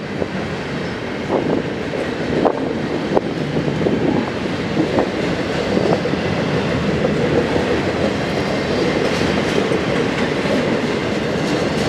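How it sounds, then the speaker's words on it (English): A long heavy freight train rumbles steadily past on the tracks at Tehachapi, wheels clicking and clacking in an uneven rhythm, close and continuous throughout. "This train is definitely heading to Hobart."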